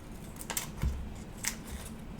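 Small scissors snip sticky paper in a few quiet, separate cuts spread over a couple of seconds, each a soft crisp snap against faint room noise.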